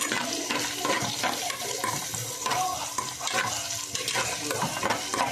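Onions frying in oil in a home kitchen pan, a steady dense sizzle with stirring and scraping throughout, loud and close, no voices.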